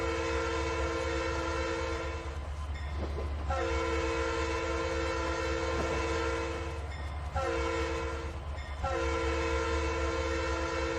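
An SD80MAC diesel locomotive in the Trainz 2019 game rumbles steadily with a constant low engine drone, broken by two short horn-like blasts, with no talking.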